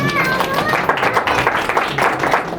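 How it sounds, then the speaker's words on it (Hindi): A church congregation claps loudly together during a Hindi sermon, a dense wash of many hands over a steady murmur of voices. "एक बार जोरदार ताली हो जाए।"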